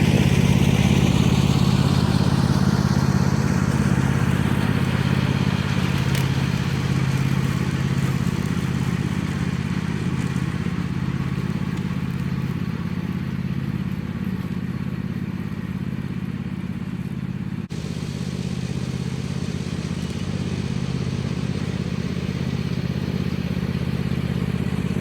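A little red tractor mowing wet grass in a self-sufficiency garden, its engine running steadily and close with a low continuous drone and some clatter throughout.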